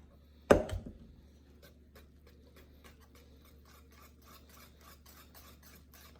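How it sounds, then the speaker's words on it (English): A mac and cheese sauce being whisked in a pot, one loud clank at the start, then a faint, steady rhythmic scraping of the whisk against the pan. "I'm going to keep whisking that until it all melts in"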